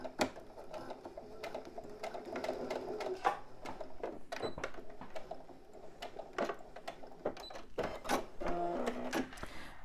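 A domestic sewing machine topstitches a fabric backpack, its needle running in short bursts of rapid mechanical chatter broken by brief pauses and clicks, close up with no talking.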